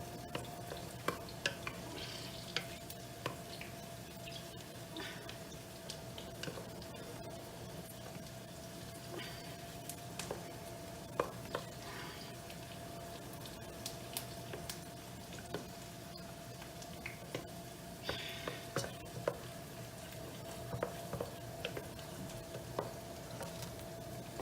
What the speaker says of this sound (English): I'm going to add more broth and continue stirring